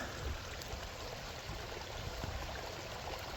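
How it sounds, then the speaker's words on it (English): Water leaking through an earthen pond dam, a faint steady trickling and rushing wash, continuous and low in level, with no voices. "We found out for certain the water is coming right in here. It's leaking out."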